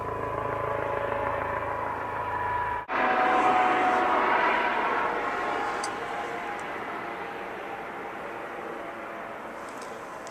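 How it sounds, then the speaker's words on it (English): A helicopter flies overhead, its broad whirring rotor and engine noise swelling to a loud, steady roar and then slowly fading, with no talk over it. "Oh, helicopter."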